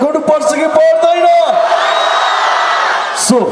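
Concert crowd at a live show in Pokhara cheering and shouting loudly, starting under a host's voice and swelling into a sustained, dense roar of whoops that runs to the end.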